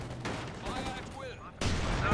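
Infantry gunfire in the Company of Heroes 2 war game, a cluster of rifle shots with a crackling burst near the end, mixed with battlefield clutter and voices.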